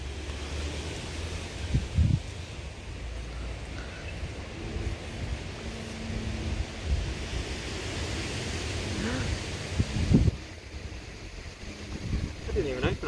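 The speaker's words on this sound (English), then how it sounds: "it's warm, but it's windy." Steady rushing wind buffeting outdoors, a broad whooshing noise with occasional gusts and faint distant voices underneath.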